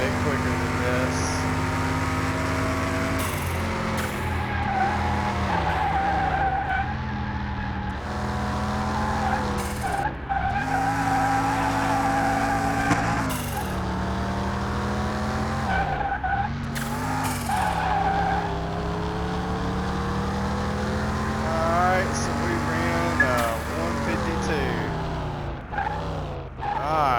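A car in Car Mechanic Simulator 2021 runs a lap with a turbo engine droning and shifting pitch through the corners, tyres squealing and skidding repeatedly, while someone talks over the game sound.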